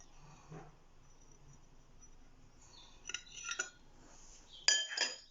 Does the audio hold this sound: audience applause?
no